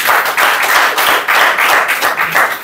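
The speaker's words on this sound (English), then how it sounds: "a big round of applause for her" An audience claps loudly and continuously for a presenter at a spoken English training class, a dense close patter of many hands with no break.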